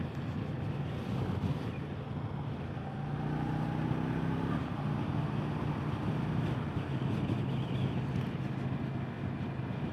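A 2025 Indian Scout Bobber cruiser at highway speed on the interstate, a steady low engine drone buried under heavy, constant wind roar from the moving ride.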